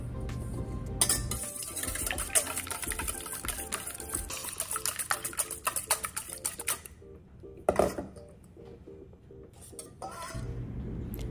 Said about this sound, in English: Once you've added your eggs to a mixing bowl, add the milk and carefully whisk everything together.